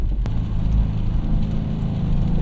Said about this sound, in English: Exhaust sounds fairly decent in stock mode too.